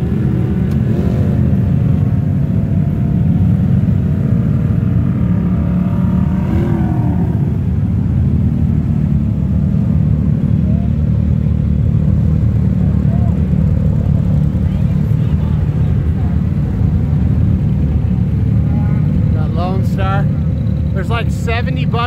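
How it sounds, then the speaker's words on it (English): Pro turbo class buggies racing at the Mint 400 off-road event, a continuous loud, low engine roar and rumble that holds steady throughout, with people talking over it. "Buggies in pro turbo class."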